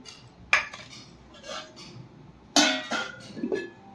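Plates and cutlery being set out for a Radhashtami puja offering, with two sharp metallic clatters standing out over softer, quieter clinks and handling in between.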